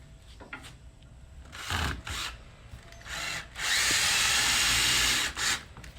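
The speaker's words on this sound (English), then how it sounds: "Do my pilot hole, getting the deck screw." A power drill bores a pilot hole and then drives a deck screw into wood for a standing skeleton prop, with short whirring bursts followed by a long, loud sustained drive before it stops, all close up.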